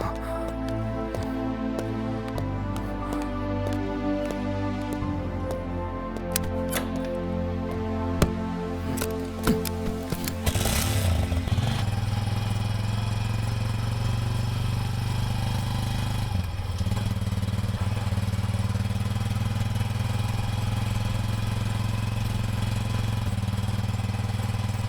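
A motorcycle engine starts up amid a film scene's background music and then idles steadily at a mid-pitched, close and continuous rumble.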